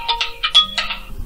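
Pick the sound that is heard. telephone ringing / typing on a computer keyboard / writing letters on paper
telephone ringing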